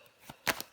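Tarot cards drawn and laid over another card, giving a few quick soft papery slaps and flicks close by, with one louder snap near the end.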